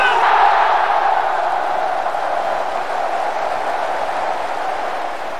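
A big football stadium crowd roars during a Manchester United match, a broad sustained wall of shouting that swells at first and then slowly eases, with no distinct speech in between.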